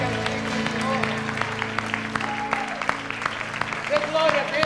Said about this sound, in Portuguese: Aplauda bem forte aquele que merece.